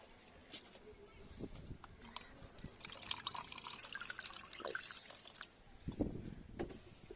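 Faint trickle and splash of water being poured into a container holding liquid fertilizer on a terrace garden, soft and close, with light clinks along the way.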